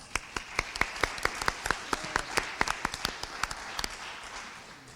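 A small audience claps to welcome trustee finalists at a forum, a sparse, uneven run of individual hand claps in a room, fairly quiet and thinning out toward the end.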